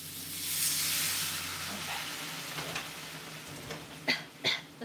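Water poured into a hot, burnt pan gives a long, broad steaming hiss that slowly fades, followed by a few sharp sputters and bursts near the end.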